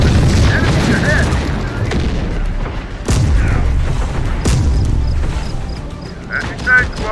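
Gunfire in the game Terminator: Dark Fate – Defiance sounds as heavy booms and scattered shots under a constant battle din, with brief radio-style voice chatter mixed in.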